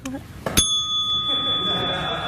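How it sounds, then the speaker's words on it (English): A bell is pressed during an improv game on a late-night talk show set, giving one bright, ringing ding that lingers and slowly fades, with a voice briefly heard just before it. "Where you press the bell and then you have to go"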